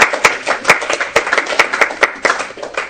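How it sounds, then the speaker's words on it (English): A small group breaks into brisk applause, with uneven, overlapping hand claps heard close up and a few voices faintly underneath. "We got to give ourselves a round of applause."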